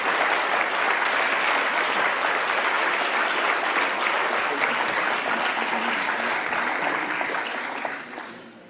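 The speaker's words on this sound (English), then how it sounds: "Let's give Gurudev a big round of applause." A large audience at a World Meditation Day event at the United Nations applauds Gurudev with steady, dense clapping that holds evenly, then fades at the end.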